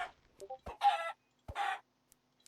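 Loud clucking and crowing from a big chicken in the Farming Valley video game, a couple of close, rapid bursts with short pauses between.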